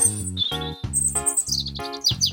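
Bright chirps and tweets from a small bird in a children's story, several quick repeated calls close up with no talk over them.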